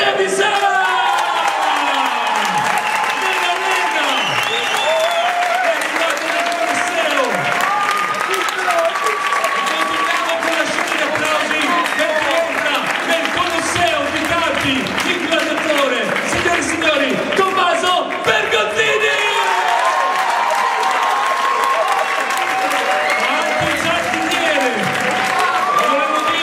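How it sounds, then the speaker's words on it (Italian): A big round of applause with cheering and whoops greets Mister Ruggero Trevisan as he is introduced at a lively Italian show, a dense crowd roar running loud and steady throughout with a voice talking over it. "un grosso applauso, iniziamo con Mister Ruggero Trevisan"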